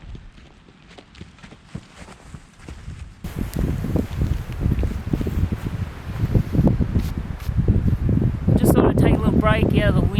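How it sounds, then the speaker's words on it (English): Gusty wind sweeps across the open high country near Falls Creek in Victoria, a steady broadband roar that swells louder midway and stays strong, with faint bits of voice underneath. "Break out of the wind here."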